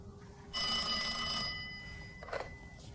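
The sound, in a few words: telephone ringing on a callback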